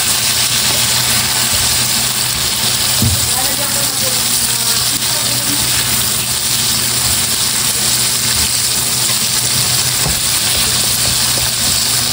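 Chicken frying in oil, a steady close sizzle running throughout, with a low hum underneath and occasional clinks as the pieces are turned.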